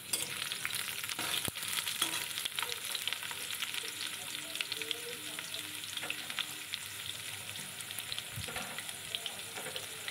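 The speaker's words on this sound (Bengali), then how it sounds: "আলুগুলো একটু লাল লাল করে ভেজে নেব।" Potatoes frying in a pan for a taro and snakehead fish curry, a steady broadband sizzle with occasional scrapes and stirring clicks, close and continuous without any voices.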